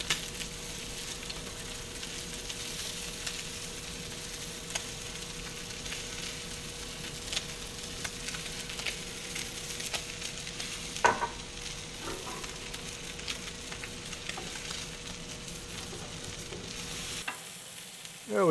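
Pork chops sizzle and fry in a pan, a steady close crackling hiss that holds throughout, with a few brief clatters as they are turned, before cutting off near the end.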